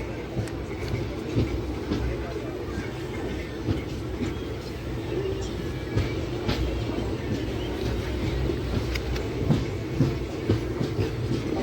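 Passenger train number 22954 pulls out of Kim station heading toward Surat, wheels clattering steadily over rail joints with a loud, continuous rumble and sharp clicks, heard from inside the coach.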